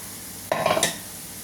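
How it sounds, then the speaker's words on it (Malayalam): Crushed coconut stirred into a pan of frying pappadam thoran makes a single short scraping stir with a light sizzle, brief and close against a quiet background. "ഇതിലേക്ക് നമ്മൾ നേരത്തെ ചതച്ച് വെച്ചിരിക്കുന്ന തേങ്ങയും കൂടെ ചേർത്ത് കൊടുക്കുക"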